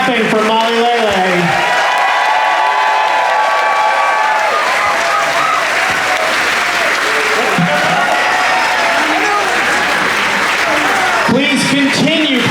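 Sustained applause with cheering and whoops from a large concert audience aboard the JoCo Cruise 2025 main stage show, a dense crowd roar filling the room with spoken voices mixed in.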